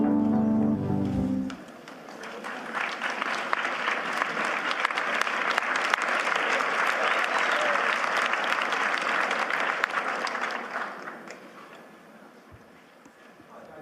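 Audience applause at a Davos session, a broad sustained clapping that starts after a brief opening sound, holds steady for about ten seconds, then fades out.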